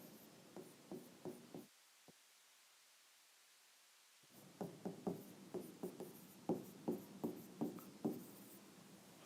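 Chalk or marker scratching on a lecture board in short rhythmic strokes, a quick burst, a pause of silence, then a longer run of steady taps and scrapes, quiet and close.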